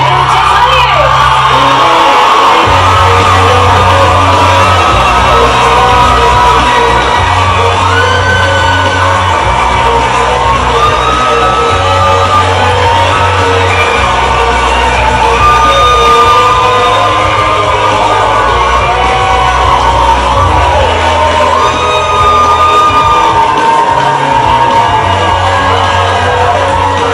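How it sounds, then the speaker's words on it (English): A live studio audience at a BBC Radio 1 morning session erupts in loud, sustained cheering, whooping and applause after a winner is announced, with a pulsing bass beat thumping underneath throughout. "A round of applause."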